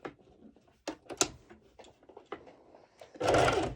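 A home sewing machine runs a short burst of back-and-forth stitches on fabric for a halter neck top, a dense whirring rattle near the end after scattered handling clicks and taps.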